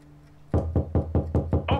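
Security agents pound on a door in a drama scene, six firm, evenly spaced knocks, close and loud, after a brief quiet lead-in.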